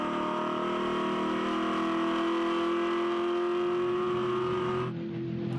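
A V8 ute race car with a fresh Haystead-built engine roars at sustained high revs at Symmons Plains raceway, a loud steady drone with a slight pitch shift before easing off near the end.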